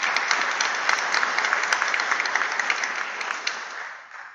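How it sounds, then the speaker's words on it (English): A room full of people at a Board of Education meeting applauds award recipients with steady, crisp clapping that gradually thins and fades away at the end. "Another round of applause for our recipients."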